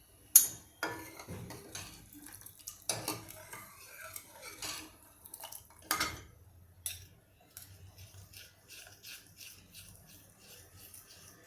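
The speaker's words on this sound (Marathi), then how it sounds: "ही चटणी मी या पाण्यामध्ये सारखी करून घेते" Spoon clinking and scraping against a metal vessel while chutney is stirred into water for sambar, a run of close, irregular taps and scrapes that fade toward the end.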